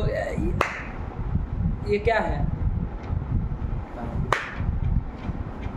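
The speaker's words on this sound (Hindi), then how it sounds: "ताली सुनाई दे रही है।" Sharp hand claps ring out in a room, one near the start and another later, crisp and separate, with a voice speaking between them and a quiet background hum.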